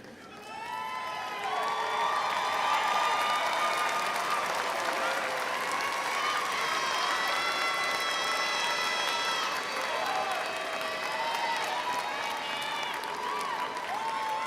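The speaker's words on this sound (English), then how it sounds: "join me in applauding all those who have helped you earn your degree today" A large crowd at a university commencement ceremony applauds for about fourteen seconds, a broad sustained roar of clapping with cheers and whoops and some high, shouted voices mixed in.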